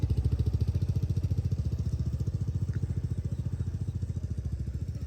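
A motorcycle engine idles or runs at low speed close by, a loud, even, rapid thumping pulse that stays steady throughout with no talking.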